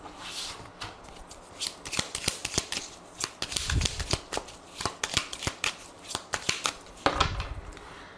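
Tarot cards are shuffled and cut by hand, close up, as a rapid series of crisp riffling flicks and slaps, with no talking.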